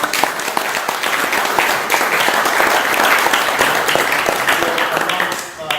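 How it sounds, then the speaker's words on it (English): Dense, sustained applause from a crowd at a cocktail reception, loud and continuous with many overlapping claps throughout, slight tapering at the end. "Please give him a round of applause."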